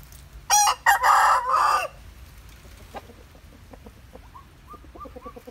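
A young fighting rooster of about 2.7 kg gives a loud, close crow, then settles into a series of soft, short clucks.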